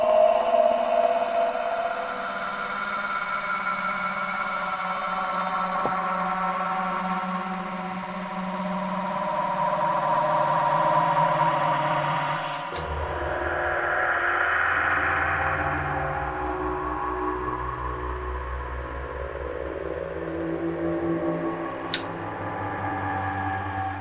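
A creepy arpeggiated synth preset from the Wusik Station AD Alpha plays a dark, droning wash of layered tones that slowly shift and swell, with a low rumble entering midway, steady and unaccompanied by speech.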